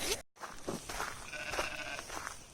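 Sheep on a farm give a drawn-out bleat close by, with softer bleats from the flock and rustling around them.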